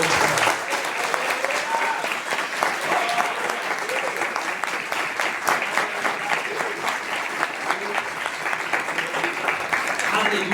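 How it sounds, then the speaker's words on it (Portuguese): A church congregation claps together during an evening worship service, sustained dense applause filling the room at an even level, with voices mixed in. "Dá o melhor aplauso que pode dar ao Senhor"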